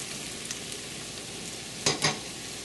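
Fresh carrots fry in a pan in a steady, close sizzle, with two brief louder stirring scrapes near the end.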